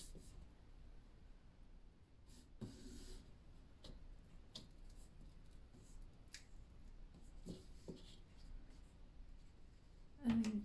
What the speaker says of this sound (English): I'm just making sure that I'm having my score lines on the chipboard